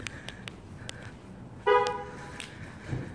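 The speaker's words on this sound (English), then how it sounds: "Oh, let me lock my car before I forget." A car horn chirps once as the car is locked, a short toot standing out sharply at close range, sitting outside a post office amid quiet ambient background.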